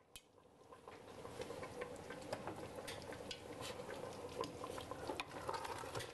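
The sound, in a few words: Indian chicken curry simmering in a pot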